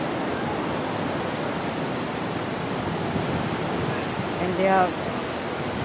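Ocean waves surge and wash beneath a pier, a dense, steady roar close by with a slightly louder swell near the end, while a person speaks briefly over it.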